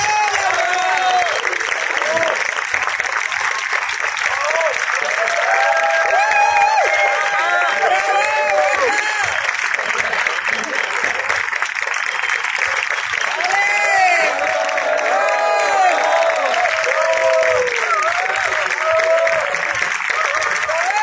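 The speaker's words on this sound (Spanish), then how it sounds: "fortísimo el aplauso para el espectáculo Escuela de Flamenco Laura" An audience at a flamenco dance school show at a festival gives loud, continuous applause, mixed with cheering, whistles and shouting voices throughout.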